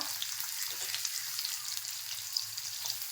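Onion frying in oil after a cumin and mustard seed tempering for chole masala, a steady, even sizzle with a faint low hum underneath.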